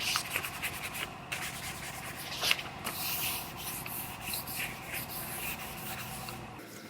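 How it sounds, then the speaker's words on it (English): Sandpaper mounted on a scuff pad rubs back and forth by hand over a car body panel, a steady close scratchy rasping with brief pauses and uneven strokes. "You put your sandpaper on a scuff pad, it sticks to it, and then you could get up in here"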